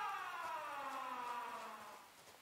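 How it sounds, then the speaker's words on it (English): A siren wails in a horror video game, a sustained tone slowly sliding downward and fading over a couple of seconds, with no one talking. "Someone's got a new siren."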